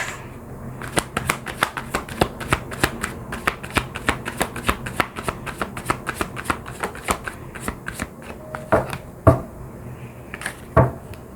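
Tarot cards are shuffled by hand in a steady run of crisp, close riffling flicks, ending with a few sharper snaps as the deck is squared.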